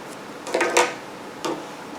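Scissors snip a loose yarn end on a crocheted Bichon Frise amigurumi dog leg, with a few quick, quiet cuts close by in an otherwise still room.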